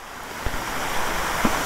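Wind-stirred water trickles down from Bhandardara dam while its gates stay closed, heard as a steady rushing wash mixed with wind noise and two soft thumps, with no speech.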